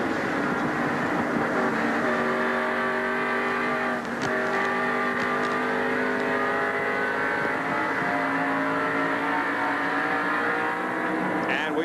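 NASCAR Winston Cup stock cars race around an oval track at the 1988 Southern 500, a loud continuous engine roar with sustained high revving tones and a car passing close by, with a commentator talking over it.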